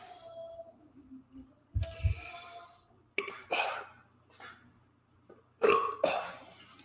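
A man lets out several burps in a quiet room, separated by pauses, with some breathy throat sounds between them.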